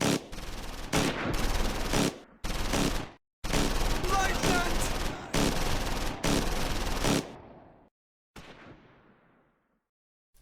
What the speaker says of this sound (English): The rifle squad is pinned in the keep under light machine gun fire from the building opposite, as well as tank fire.